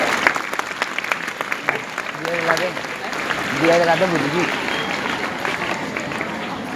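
A crowd at a home Tulsi puja gathering claps in a rising patter that grows fuller midway, with voices talking and calling out over the applause.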